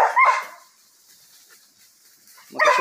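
Young dogs on an armadillo hunt bark and yip in short close bursts at the start and end, separated by a quiet pause.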